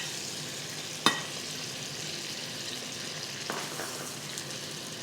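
Onions fry in olive oil and butter, a soft steady sizzle with a sharp clink near the start and a brief stir later.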